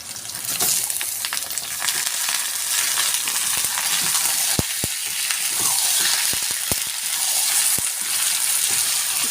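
Chicken pieces for mango chicken frying in a pan give a steady loud sizzle, broken by occasional sharp clinks and scrapes as they are stirred.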